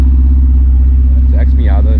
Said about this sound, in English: Zach's Miata.